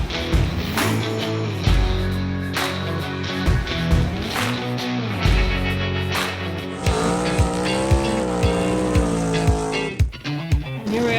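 No-prep small tire naturally aspirated drag race cars launching and racing down the strip, loud roaring engines rising through gears with tire squeal, a fresh high-revving run breaking in partway, close and continuous.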